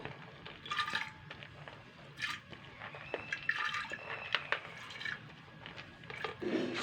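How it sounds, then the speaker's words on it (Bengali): Washed red lentils and chana dal going into a pressure cooker, with scattered wet drips, splashes and small clatters of the grains and pot repeating faintly and close over several seconds. "এখানে আমি ধুয়ে রাখা মুসুর ডাল আর ছোলার ডালটা আমি দিয়ে দেবো"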